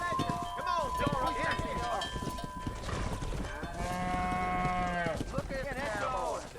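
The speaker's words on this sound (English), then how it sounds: "Herd the cows down the road." Cattle moo in long, drawn-out calls while being herded down a road in the Red Dead Redemption video game, mixed with a busy game soundscape and a voice talking over it.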